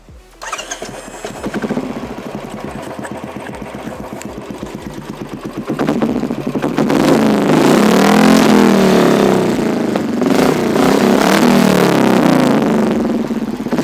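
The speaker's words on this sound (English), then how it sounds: "So let me start the engine and show you the sound." A motorcycle engine fitted with a Motor Torque launcher exhaust cranks and fires, idling in a loud pulsing beat before revving up into a louder, sustained roar, close and alone.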